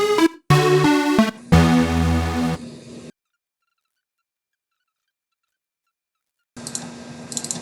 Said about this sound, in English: It wants us to use the lose sound from the Scratch sound library.